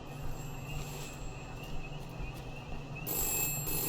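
A telephone rings in a stealth video game near an underground entrance, a steady electronic trill sounding in repeated bursts over low ambient background.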